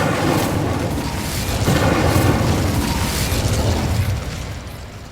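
A Bombarda blasting spell going off in the wizarding video game Hogwarts Legacy, a loud rumbling explosion that swells and sustains, then fades toward the end.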